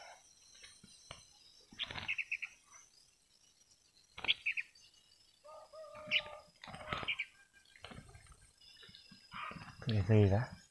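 A young red-whiskered bulbul gives short, high chirps in scattered bursts, some close and clear, with quiet gaps between them and a voice talking nearby.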